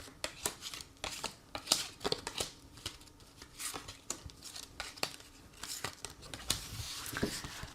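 Tarot cards are shuffled and handled for a card reading: soft, irregular riffles, slaps and clicks come close and quiet, with no talking.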